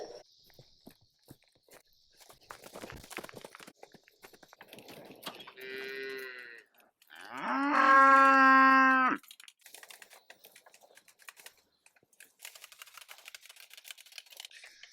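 Calves on a fenced pasture give two drawn-out moos, the second louder and longer, amid scattered rustling and clicking from nearby fence work.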